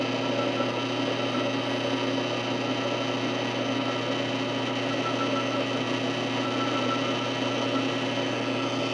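A polishing wheel works a Brazilian agate nodule, a steady whirring machine drone with a constant grinding hiss that holds unbroken and fairly loud throughout.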